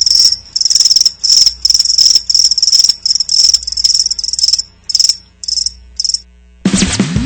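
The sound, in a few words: crickets chirping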